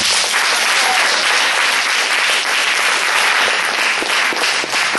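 A dense, steady roar of applause from a seminar audience in Nantes fills the whole stretch, loud and continuous, with no distinct cheers standing out.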